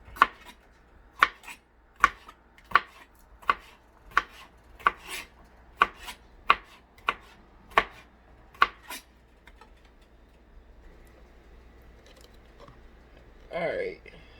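A knife julienning bell pepper and onion on a cutting board makes about a dozen crisp, evenly spaced chops, steady and close. The chopping then stops, leaving quiet room tone and a short burst of handling noise at the end.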